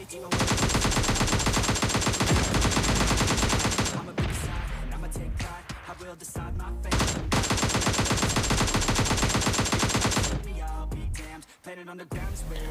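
Dense automatic gunfire in the battle-royale game PUBG, long loud sustained bursts broken by short pauses and a few single shots, close and continuous.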